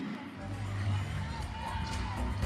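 An arena crowd at a Big 10 gymnastics championship cheers and roars steadily, a dense wash of shouting and babble that swells slightly midway and holds to the end.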